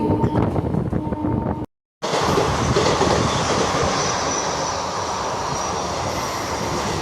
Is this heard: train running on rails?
yes